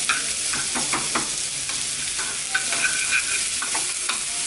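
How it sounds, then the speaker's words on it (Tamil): Onion, green chilli and curry leaves sautéing in a pan: a steady bright sizzle with a spoon scraping and stirring in short strokes throughout, close, with no voices. "இப்போ இது எல்லாத்தையும் வதக்கி விட்டுடலாம்."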